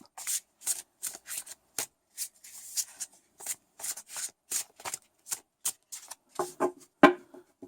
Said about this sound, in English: rifle shuffle it in the other direction